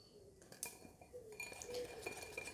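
Cake batter whisked in a bowl, quiet clinks and taps of the whisk against the bowl over a faint steady swish, close and brief.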